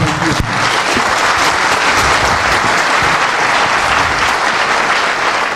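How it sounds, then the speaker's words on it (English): A large crowd at a Kenyan political gathering claps loudly and continuously for Baba, Raila Odinga, just before the national anthem, a thick sustained wash of applause with a sharp pop near the start. "tafadhali naomba tupige baba makofi venye nafaa"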